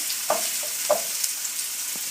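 Food frying in a pan until golden brown, a steady soft sizzle with a few light clinks of utensil against the pan, close and alone without any talking.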